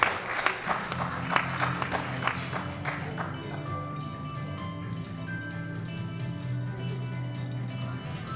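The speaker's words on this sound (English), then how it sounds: "Give them a round of applause as they all receive a participation medal." Applause at the 2016 World Open Powerlifting Championships in the men's 74 kg class, loud distinct claps at first that thin into scattered clapping as the medals are handed out, over a soft hum of ringing tones and hall noise.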